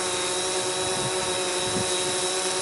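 A remote-control helicopter carrying a camera flies nearby, its motor and rotors making a steady high-pitched whine with a constant dense hum and no voices.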